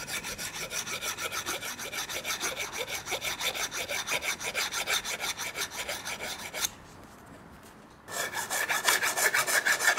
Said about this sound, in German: Die Außenseite des Rohrs wird mit einer Flachfeile geglättet.